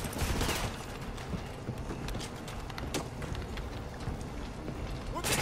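Gunfire in Call of Duty Modern Warfare 2 Remastered, rapid bursts of shots and impacts mixed with busy game noise at moderate level.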